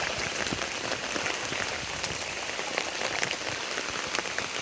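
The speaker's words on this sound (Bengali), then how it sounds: "প্রচণ্ড বৃষ্টি" Heavy rain pours steadily over flooded streets and houses, a dense, continuous hiss of drops beating on surfaces, loud and close throughout with no voices.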